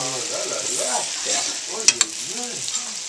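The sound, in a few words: foie gras flambéed with Jack Daniel's searing in pan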